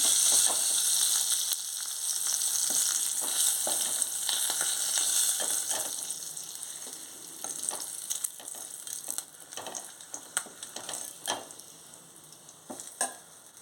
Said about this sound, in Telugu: ఎండు చేప ముక్కలు వేగిపోయి ఇప్పుడు తీసేసుకుంటున్నాను